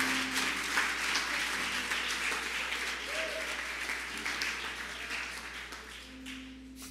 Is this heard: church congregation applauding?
yes